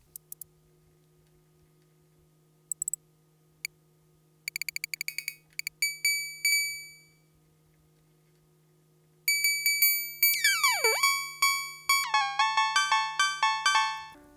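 Korg Volca Drum synthesizer playing pitched percussive tones, scattered clicky ticks at first, then bursts of bright, ringing bell-like hits that bend downward in pitch, tuned to one another as a short progression over a steady low hum, with no talking.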